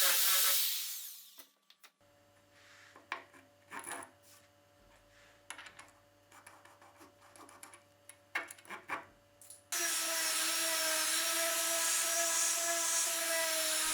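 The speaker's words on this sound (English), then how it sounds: "For that, I use a Forstner bit and carefully make room for the bolt head and the edge socket." A Forstner bit bores into a wooden staircase part, first as a brief drill whine, then scattered knocks and handling noises, and finally a steady, loud, high drilling hum that runs to the end.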